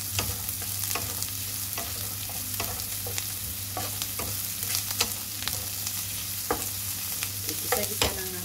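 Ginger sizzles in a hot pan while cooking sea bream, a steady close frying crackle with scattered sharp spatters and occasional stirring clicks, a low hum underneath, no voices.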